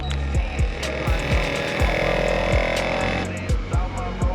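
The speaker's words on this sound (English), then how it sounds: "That's a built-in compressor. You literally press the button," A built-in air compressor on a Valvetronic exhaust setup for an E46 M3 runs with a steady, loud mechanical hum and a regular throbbing pulse about every half second.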